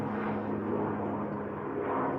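Steady low rotor and engine drone of a helicopter passing overhead, a continuous rumble held at even loudness without a break or any voices.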